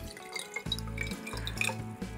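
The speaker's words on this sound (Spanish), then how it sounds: "Vamos a echar primeramente el agua." Water pours into a baby bottle for a reborn doll in two short bursts, a close, steady trickle with light drips and a faint clink of plastic or glass, and no talk.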